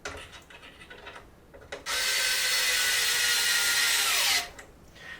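Electric screwdriver whirring steadily for about two and a half seconds while driving screws into the body mounts of an FMS Bronco RC car, with light handling clicks before and after the burst.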